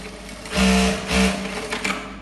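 Bruce R4000 industrial lockstitch sewing machine backtacking, a steady close mechanical whir that surges in two short bursts of rapid stitching and then settles to a lighter running hum.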